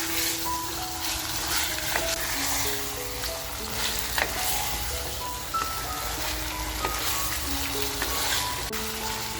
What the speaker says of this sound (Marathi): आपल्याला मटण आहे ना छान असं परतवून घ्यायचंय, म्हणजे फ्राय करायचंय कांद्याबरोबर